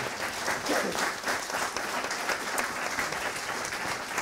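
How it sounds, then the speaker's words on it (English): An audience at a 2018 Jefferson Parish Sheriff's candidate forum applauds steadily and fairly loudly throughout, a thick wash of many hands with no voices standing out. "You may clap now."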